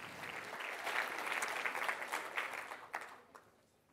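Crowd at a startup pitch competition applauding a runner-up, a faint but continuous wash of clapping that thins out toward the end.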